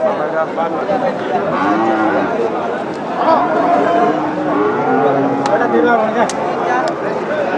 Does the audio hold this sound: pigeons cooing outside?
no